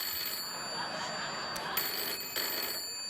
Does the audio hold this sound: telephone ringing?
yes